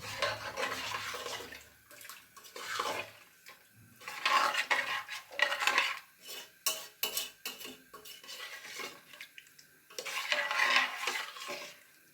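Rice and water are stirred in a cooking pot for biryani, with close, repeated scraping and swishing strokes in uneven bursts and no voices.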